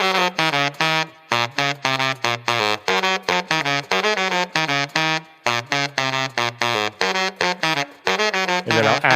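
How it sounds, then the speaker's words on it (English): A mixed horn section of trumpet, trombone and sax plays short, punchy staccato chords in a steady rhythm, each stab ringing briefly with a short plate reverb before the next, loud and with no voices. "So first, let's hear with the shorter plate reverb."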